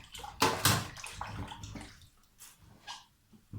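A garlic crusher is rinsed under a running kitchen tap, with splashing water bursts strongest early on, then softer intermittent trickling and sloshing, close and fairly quiet.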